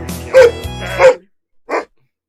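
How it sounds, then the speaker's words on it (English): A dog barks three times close and loud, two quick barks followed by a pause and a final shorter one. "The dog barking is so"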